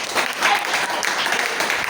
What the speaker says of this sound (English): please welcome him with a great round of applause